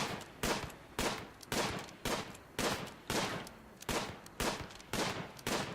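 A colonist fires a gun in Rimworld, a steady run of about a dozen sharp shots spaced roughly half a second apart. The shots are fairly faint and distant, and each one cracks and then briefly decays.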